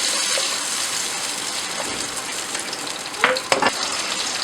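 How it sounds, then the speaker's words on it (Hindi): Masala paste frying in oil in a kadhai gives a continuous close sizzle and hiss, with a few sharper spatters and stirring scrapes near the end. "अब हम कढ़ाई में पेस्ट डाल लेंगे और इस पेस्ट को मज़ीद तब तक पकाएंगे जब तक इसका ऑयल ऊपर आ जाए।"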